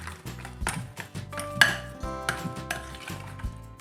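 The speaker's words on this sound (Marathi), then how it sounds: "याला चमच्याने असं छान असं मिक्स करून घ्यायचे आहे" A spoon mixes mango shrikhand in a bowl, giving close, rhythmic clinks and scrapes against the dish, with one brighter ringing tap midway.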